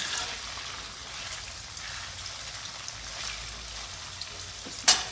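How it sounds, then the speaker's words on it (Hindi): Paneer fries in mustard oil while being stirred, giving a steady, soft crackling sizzle throughout, with a sharp brief clink near the end. "100 ग्राम सरसों के तेल में पनीर को फ्राई कर लो, भूरे कलर का"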